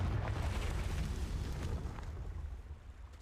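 A fiery Confringo explosive spell blast in Hogwarts Legacy, a broad rumbling boom that fills the space and slowly fades over a few seconds, with no voices.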